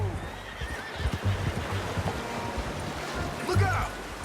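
A horse whinnies in Red Dead Redemption 2, several neighs over hoof clip-clop and ambient game sound, fairly close, with characters talking in the scene.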